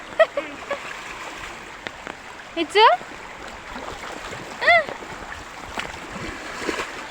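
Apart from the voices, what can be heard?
children splashing and playing in floodwater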